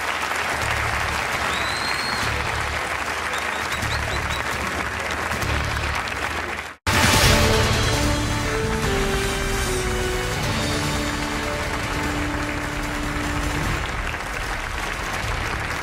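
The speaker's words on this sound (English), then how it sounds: "Please give some applause to the candidates." Audience applause for Republican presidential debate candidates on stage in California fills the room, dense steady clapping from a large crowd, broken by a brief cut before the ovation resumes and carries on at full strength.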